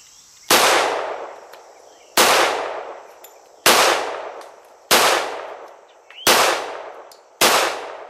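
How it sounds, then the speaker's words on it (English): Six sharp, loud pistol shots from a Kimber handgun ring out at an outdoor range, each a crisp crack with a short decaying tail, fired at an even pace about a second and a half apart. "8 shots from the Kimber."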